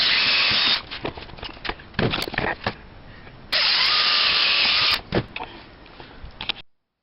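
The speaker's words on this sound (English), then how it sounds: "So we're going to bore a hole in here." A power drill whines in two sustained bursts, boring into wood, with clattering handling noises and pauses between runs.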